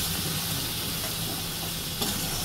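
Ginger-garlic paste fries over a low flame in a pan for a spicy Bengali prawn curry, making a continuous broad hiss that stays even from start to end, with one small clink near the close.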